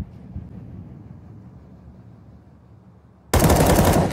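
A low rumble from the Counter-Strike 2 video game at an esports match gives way abruptly to a loud, dense burst of rapid automatic gunfire near the end.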